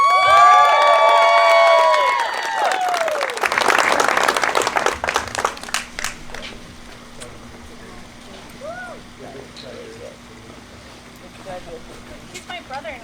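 At a wedding, guests cheer and whoop loudly while clapping for the bride's sister, then the applause fades after a few seconds and a quiet room is left with a few soft voices.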